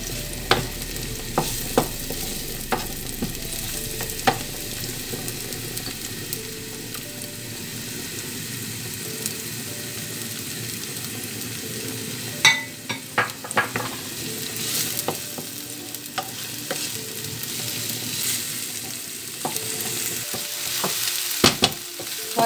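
Sliced onions frying in a pan for a potato and ground beef gratin tart, a constant sizzle broken by repeated scraping and knocking of a spoon as they are stirred, busier clatters toward the middle and end, no speech.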